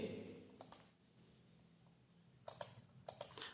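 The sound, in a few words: computer mouse clicking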